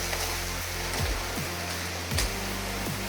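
A heavy rain shower on a bike ride, steady broadband hiss of rain mixed with wind rush and low rumble, with brief thumps and low-pitched sweeps of passing noise.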